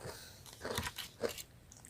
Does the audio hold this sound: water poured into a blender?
no